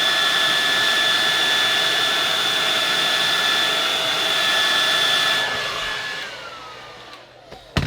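A heat gun blows hot air onto a Hogue rubber grip sleeve on a handgun, a loud steady whooshing hiss with a high tone that winds down and stops near the end.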